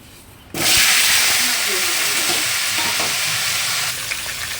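Potatoes dropped into hot oil already holding whole cumin and bay leaf, a sharp burst of loud, close sizzling that starts abruptly after a quiet moment and holds steady, easing slightly toward the end.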